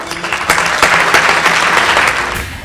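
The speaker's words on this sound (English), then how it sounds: "I ask you to give yourselves a round of applause" An audience in a room at a local community gathering gives a round of applause, dense overlapping clapping swelling quickly and staying full and close before tapering slightly at the end.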